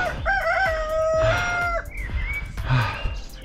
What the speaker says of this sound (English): These roosters don't like us.